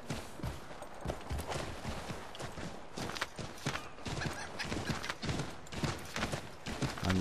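Hooves pound rapidly as a horse gallops in Assassin's Creed 3, a quiet, dense clatter of irregular thuds that continues throughout, with possible whinnying and distant gunfire mixed in.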